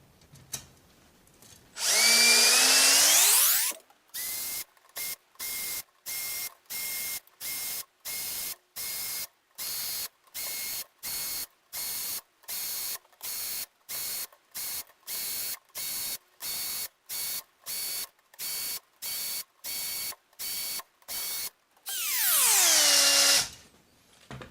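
A Unior 1756 speed nipple bit in a drill spins bicycle spoke nipples one after another around a wheel rim, a long run of short, evenly spaced whirring bursts, with a longer, louder drill run at the start and end.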